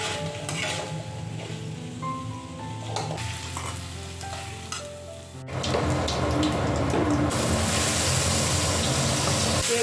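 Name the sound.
potatoes frying and sizzling in very hot oil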